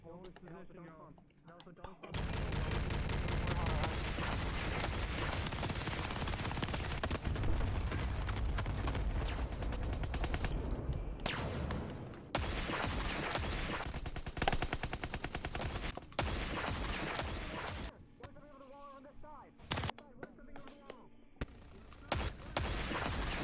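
Sustained gunfire in a Halo battle, dense bursts of automatic weapons and blasts rattling almost without pause, with a few brief lulls, under occasional game dialogue.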